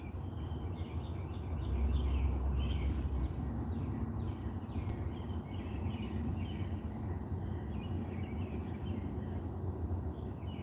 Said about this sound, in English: I don't mind the birds.